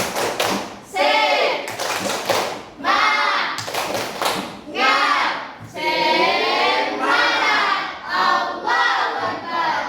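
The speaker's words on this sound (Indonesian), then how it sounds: "kita tepuk semangat dulu" A class of students does a rhythmic cheer clap in an Islamic religious education lesson, with bursts of group clapping in patterned beats and loud chanting voices throughout.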